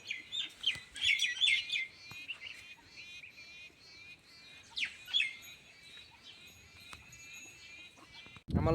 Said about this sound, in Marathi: मी आता तिथं झाडावर पाखरू बसलंय.